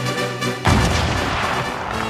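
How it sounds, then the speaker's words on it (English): Cannon and musket fire as a battle sound effect: a quiet tonal bed breaks into a sudden heavy blast at about two-thirds of a second, followed by sustained crackling, rumbling gunfire. "There was a most infernal fire of cannon and musketry"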